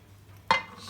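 A flat plate set onto a frying pan holding an omelette, one short, fairly close ceramic-on-metal clink over a quiet background hum, followed by a faint sizzle.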